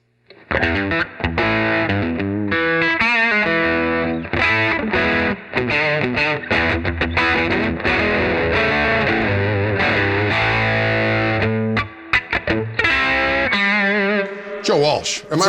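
Overdriven electric guitar through a Mythos Mjölnir overdrive pedal with the gain turned up, playing loud, continuous chords and riffs with a few short gaps, close and alone without talk.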